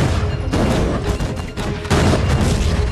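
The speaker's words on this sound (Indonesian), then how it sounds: "Beberapa tembakan mengenai monster itu dan menghancurkan kulit kerasnya." Heavy gunfire blasts at a sea monster during a battle scene in the film The Sea Beast, a dense, loud barrage of booming shots with almost no pause.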